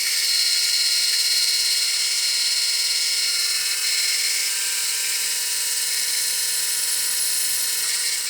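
A high-pitched power drill whines steadily throughout, close and continuous, boring holes into the frame of a scale RC steel truck without pause.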